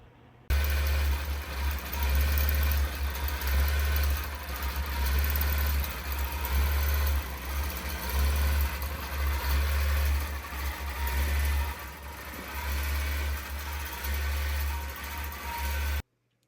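Gammill longarm quilting machine stitching a vintage cross stitch quilt, a steady loud mechanical hum with a low rhythmic motor throb running continuously and nearly unchanging, no voices.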